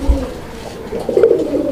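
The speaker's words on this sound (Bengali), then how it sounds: "কবুতরগুলো ডাক দেখানোর কারণ কি জানেন?" Pigeons of a large fancy breed, kept at a pigeon seller's, give short low cooing calls, one brief coo near the start and a longer burbling coo later, fairly close and clear.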